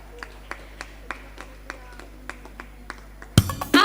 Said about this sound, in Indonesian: Saya minta kesediaan dan tepuk tangan dari kita yang ada di Sopo